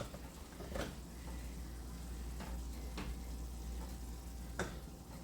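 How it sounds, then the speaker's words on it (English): A spoon stirs rice and cheese in a pot with a few soft clinks against the side over a steady low hum, quiet and close, with no talking. "let me see if I can stir it up a little bit better"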